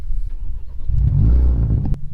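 A BMW 428i (F33) starts up, with a short whir of the starter followed by the engine catching in a brief low rev flare that settles into a steady idle.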